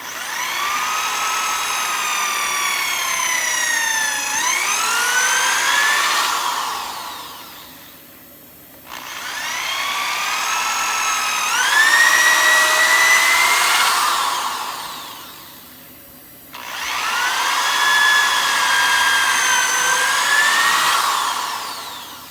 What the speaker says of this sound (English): I've made a complete circle with the holes with the drill